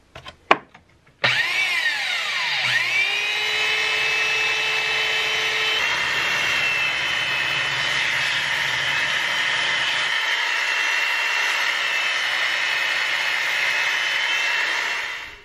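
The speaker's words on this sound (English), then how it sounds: "Next, we round over all these edges with the belt sander just to knock them down and smooth everything" Belt sander rounding over the edges of a wooden shield handle, a loud, steady whine that spins up after a few knocks and runs continuously close by, then cuts off.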